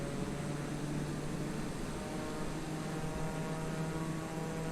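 A small plane on its landing approach in a gusty crosswind drones continuously, a steady engine hum with a low tonal whine under broadband air noise, close and unbroken.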